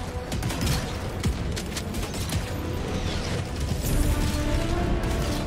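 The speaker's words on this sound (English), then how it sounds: "The mortars did that? I think the mortars did that." Mortar strikes landing in Helldivers 2, a dense rumbling barrage of overlapping booms, crashes and crackling debris that holds loud and continuous throughout.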